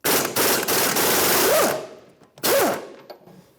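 Impact wrench on 22 mm bolts in the rear knuckle of a 2013–2018 Toyota RAV4 2.5L, two loud rapid hammering bursts, the first long, the second short, each ending with a whining spin-down.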